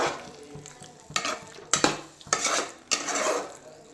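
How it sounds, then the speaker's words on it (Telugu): Paneer pieces stirred into spinach curry in a pan: a handful of distinct scraping strokes with light clinks of a utensil against metal, close and fairly soft over a low sizzle, no one talking. "మన పాలకూరతో పన్నీర్ మంచిగా కలిసేట్టు కలపాలి"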